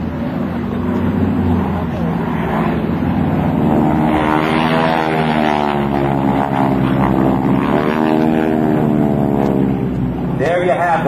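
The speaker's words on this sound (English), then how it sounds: "There you have the GEICO Skytypers solo pilots, Steve Chalmers and Jan Wildberg." GEICO Skytypers solo propeller airplanes flying at a military open house airshow, a steady droning engine with a slowly shifting pitch as the aircraft passes, with crowd and wind noise underneath.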